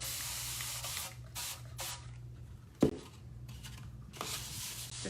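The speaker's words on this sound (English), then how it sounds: "spray down with water bottle." Several short hissing bursts from a water spray bottle misted over painted plastic craft storage, close and fairly quiet, with a small knock partway through.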